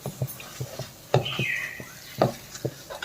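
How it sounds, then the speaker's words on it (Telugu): A spoon stirs sweet potato halwa in a pan in a home kitchen, giving soft irregular scrapes and taps against the metal with a brief faint squeak, close and quiet with no talking. "అలాగ దగ్గరుండి కలుపుతూనే ఉండాలి"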